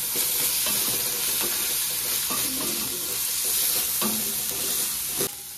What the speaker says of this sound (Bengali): এবারে দিয়ে দিচ্ছি আদা রসুন বাটা, আবারও ভালো করে কষিয়ে নেব।